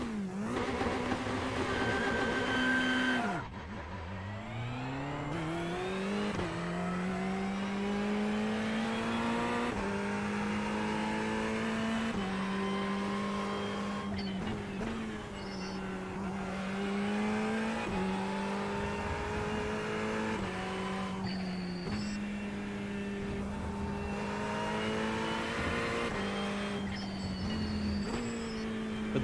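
Simulated race car engine in the iRacing sim at Portimao, revving hard through rising gear pulls with sharp shift drops and a brief high turbo chirp off throttle, loud and continuous with no talk.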